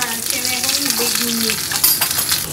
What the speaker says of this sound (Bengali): একদম ঘটি বাড়ির বেগুন ভাজা লম্বা লম্বা